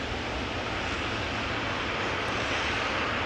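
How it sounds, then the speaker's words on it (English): A ten-year-old Emirates SkyCargo Boeing 777 freighter arriving at Amsterdam Schiphol, its jet engines a steady, dense, broadband roar that fills the air, loud and unbroken, with no voices. "Emirates Sky Cargo Flight 9920 arrived from Aguadilla. 777 freighter, 10 years old,"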